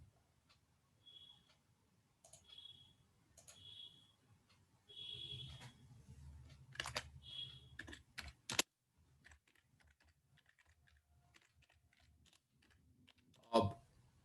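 Typing on a computer keyboard, scattered bursts of light key clicks and taps with pauses between them, close but faint in a quiet room, ending with a louder clack.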